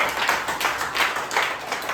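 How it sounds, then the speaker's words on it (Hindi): An audience claps together in a steady burst of applause at a Guru Nanak Gurpurab celebration, with the rhythmic hand claps fairly close and continuous for the full two seconds. "तो एक बार तालियां बजाना है के लिए।"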